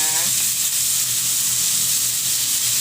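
Ingredients stir-fried in a pan, a dense, loud, continuous sizzle with soft stirring underneath, steady from start to finish.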